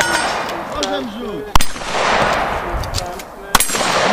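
Two sharp gunshots at a shooting range during a CAS/cowboy action shooting match, spaced about two seconds apart, loud and close, with an instructor's voice talking in between.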